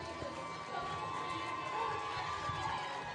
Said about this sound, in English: crowd here is cheering for that 4 points going to the Richmond Wrecking Bells